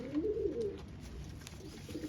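Firozpuri pigeon cooing close by, a soft low warbling coo that swells early and trails off, alone without talk.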